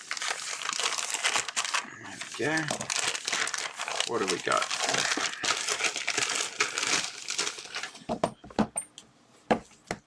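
Crinkling and crumpling of packaging as a mail package is opened, the rustling continuing under a man's speech before a few sharper handling noises near the end.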